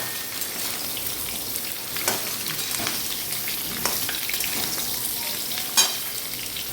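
Mangoes frying in a pan for a village-style jaggery mango dish, a steady close sizzle with scattered pops and spatula scrapes, one sharper crackle near the end, no voices.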